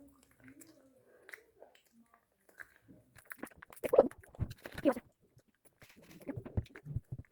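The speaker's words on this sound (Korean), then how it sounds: "자, 다음은 로얄젤를 먹어보도록 하겠습니다" Close, wet chewing and smacking of royal jelly while eating on camera, quiet at first, then growing into irregular soft squishy bursts with brief lip sounds.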